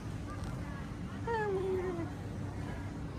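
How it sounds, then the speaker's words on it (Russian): A cat on a street in Guangzhou, China gives a single drawn-out meow over constant background street noise, with no talking. "Мяу-мяу."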